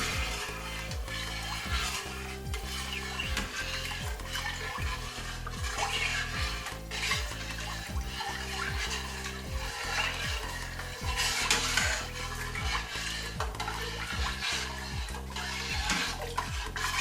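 A spoon stirs cow's milk in a pot while making feta-style cheese, giving soft, repeated scraping and swishing strokes against the pot, faint and close with no talking.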